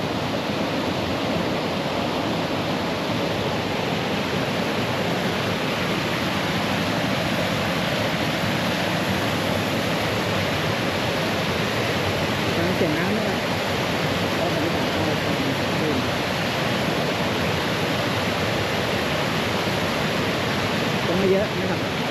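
Huai Chan waterfall pouring steadily in a quiet natural setting, a dense, continuous rushing wash of water that holds an even level throughout with no pauses.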